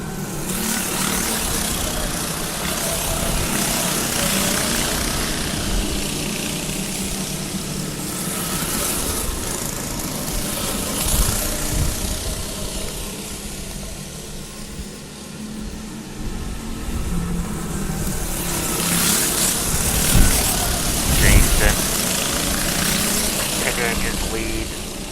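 Go-kart engines drone steadily at a race, a continuous loud buzzing that swells and fades as the karts pass, with a commentator talking over the engine noise throughout.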